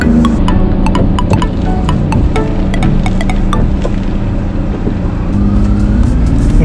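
Car driving on city roads in Nagpur after lockdown, steady engine and road rumble throughout, fairly loud and close with some mid-range whine, no voices.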